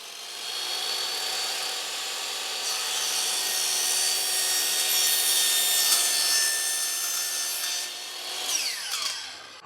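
A carbide-toothed saw cuts through an aluminum handrail, giving a steady, fairly loud hiss with a bright metallic ring, ending in a few faster rasping strokes near the end.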